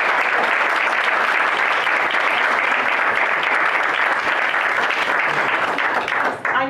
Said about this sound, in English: One last round of applause for the GAR Foundation.